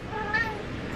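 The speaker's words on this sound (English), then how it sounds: "This is my cat. It's being very annoying." A domestic pet cat gives one short meow in a room, moderately quiet and close, against a faint background hum.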